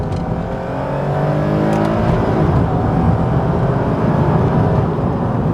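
A Lexus IS350 with a naturally aspirated engine accelerates hard, its loud engine note rising steadily in pitch as the revs climb, heard from inside the car.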